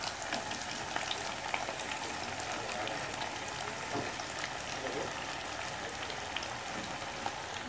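Breaded steak fillets for filet parmigiana frying two at a time in soybean oil make a constant, even, crackling sizzle, close and steady with tiny pops across the whole stretch.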